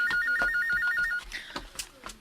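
A telephone ringing indoors: a rapid warbling electronic ring in a quick trill for about a second, then it stops as other household sounds and a voice follow.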